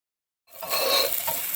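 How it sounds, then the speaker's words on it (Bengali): Onion and capsicum stir-fry in hot oil for chilli paneer: after a brief silence, a steady broadband sizzle rises and holds, close and fairly loud, with faint scraping of stirring. "এবার আমি পেঁয়াজ আর ক্যাপসিকাম দিয়ে 2-3 মিনিটের মতো নেড়ে চেড়ে ভেজে নিচ্ছি"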